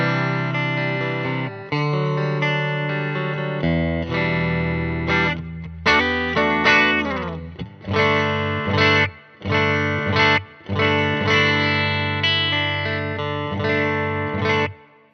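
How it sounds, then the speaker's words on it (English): A Fender American Vintage II 1965 Stratocaster on the bridge pickup, clean tone, bright and slightly twangy, plays a series of chords and short melodic phrases, with a light chorus-like shimmer. No voices. "This is a warm style clean tone, so even on the bridge, it does okay."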